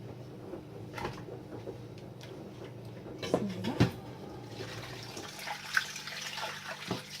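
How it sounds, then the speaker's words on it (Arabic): Water pours into a cooking pot in a home kitchen, a soft splashing and trickle under low background noise, with a few clunks of cookware and a light tap near the middle. "فوالا غادي ندير الماء"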